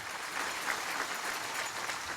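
Audience at a King County small business awards ceremony applauds steadily, a dense wash of clapping at moderate distance with no voices rising above it.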